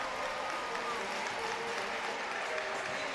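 At a Newfoundland Growlers versus Adirondack Thunder hockey game, the arena crowd keeps up a continuous roar of applause and cheering, heard from afar beneath the commentator's voice.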